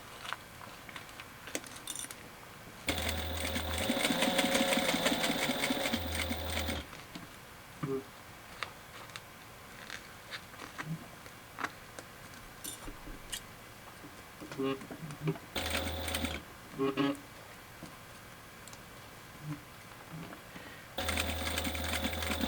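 A sewing machine stitches over the corner seams of a clutch bag, backstitching and then going forward again, in several loud whirring bursts of a few seconds each separated by quieter pauses.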